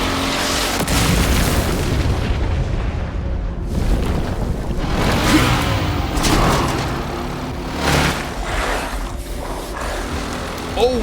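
Heavy booming blasts from RPG rockets in the Resident Evil Requiem video game roll out in several deep, loud explosions across the scene, mixed with rumbling game effects.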